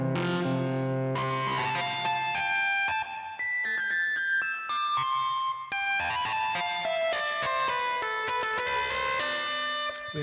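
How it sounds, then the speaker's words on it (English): Guitar played through a distortion effect in magic temperament tuning, a sequence of sustained, harmonically rich chords and notes changing every second or so, with brief gaps between phrases. "we're talking about distortion with magic temperament"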